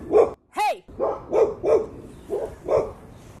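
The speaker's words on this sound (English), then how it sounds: "There's this little yappy dog across the street that my dogs love to communicate with while I'm recording" A small yappy dog barks in a quick string of sharp yaps, about seven in all, fairly loud, with one rising whine-like yelp early on and short gaps between barks.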